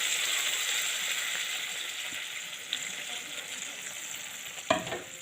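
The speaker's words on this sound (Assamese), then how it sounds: "এয়া চাওক, মই এতিয়া পানী অকণমান দি দিছোঁ" A little water goes into a pan of frying fish on high flame, and a steady loud sizzle hisses with a few small clinks and a clatter near the end.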